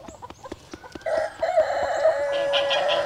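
A chicken clucks and squawks in agitated bursts close by, rising into a louder, drawn-out cry toward the end, with no voices.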